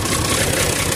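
A Massey Ferguson 240 tractor engine idles nearby, a loud, steady low rumble filling the whole second with no change in pace and no talking.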